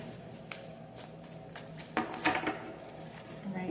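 Rapid riffling of tarot or oracle cards, a few soft bursts of papery flicking, up close and moderately quiet.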